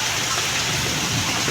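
Heavy rain pours steadily in Bengaluru, a dense, loud, continuous hiss of water striking surfaces with no pauses.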